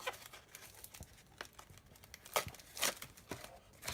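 Protective plastic film peeled and crinkled off lightsaber parts during an unboxing, close crackling rustles with several sharper tearing bursts, no voices.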